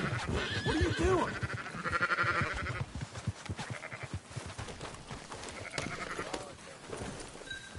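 Sheep in Red Dead Redemption 2 bleat and cry repeatedly, overlapping with one another in a dense, close flock, while a voice speaks through part of it.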